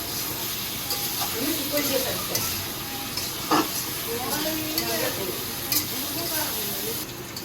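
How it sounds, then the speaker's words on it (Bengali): Vegetables sautéing in a pan with chili, ginger and coriander powder in a home kitchen: continuous sizzle with spoon stirring and scraping, while someone talks over it. "মরিচের গুঁড়া আদার গুঁড়া মতো এই যে ধনিয়ার গুঁড়া মশলাটা দিয়ে এখন কষাবো"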